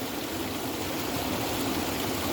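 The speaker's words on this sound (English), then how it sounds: "Let me fill up my bowl just a little bit." Water runs steadily into a shaving bowl, a constant even pour with no breaks and no voices.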